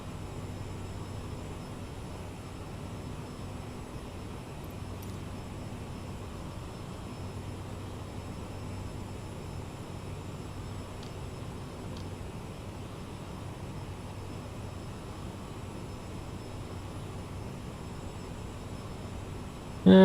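Steady, even roar of Aerosoft CRJ 900 jet engines at cruise in a flight simulator game, constant and unbroken throughout, with no talking.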